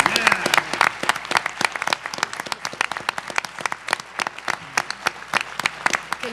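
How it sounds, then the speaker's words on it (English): Applause at a town meeting for two Scouts, a modest room of people clapping with sharp, distinct hand claps forming an irregular patter that carries on steadily for several seconds. "Why don't you guys stand up and get a round of applause."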